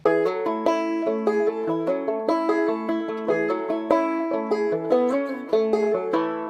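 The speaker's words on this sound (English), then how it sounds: "the first thing I added was some auxiliary banjos," Plucked banjo notes ring out in a steady, bright picking pattern, with repeating rolls of quick notes continuing throughout at a moderate, even volume.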